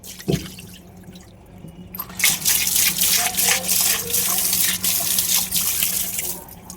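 Water gushing from a kitchen tap while a grinder jar is rinsed, a loud, steady splashing stream that starts after a brief quiet moment and runs continuously, close by.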